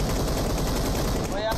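Continuous rapid gunfire in the Free Fire battle royale video game, a loud unbroken machine-gun burst filling the whole moment with a short voice near the end.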